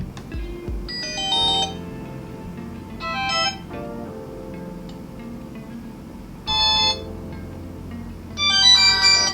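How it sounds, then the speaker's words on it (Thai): A GW33 smartwatch cycles through several electronic ringtone melodies, each a short bright burst of chiming tones separated by pauses, played close and loud with no speech. "เสียงลิงโทน มีให้เลือกอยู่ประมาณ 5 ลิงโทนนะครับตัวนี้"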